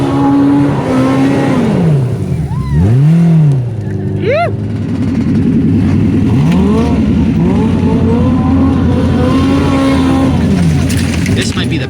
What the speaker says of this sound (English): Oh, the Pro R is going.